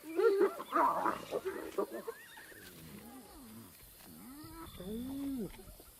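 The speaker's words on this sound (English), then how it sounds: "Hyenas are ripping an impala kill apart." Hyenas squabble over an impala kill, with a burst of loud whoops and cackles giving way to rising, wavering calls and growls nearby.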